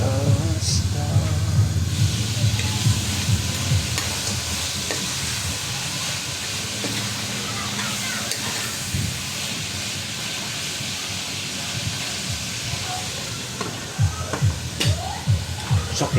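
A pot of native chicken soup bubbles and sizzles on the stove as the fat renders, with a continuous crackling hiss, a few louder pops and some stirring clatter.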